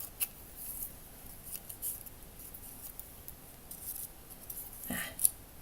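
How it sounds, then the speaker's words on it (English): Something is cut out of paper with scissors, producing quiet, close snipping and rustling strokes in an irregular sequence with a sharp click toward the end. "So I'm just gonna cut this out."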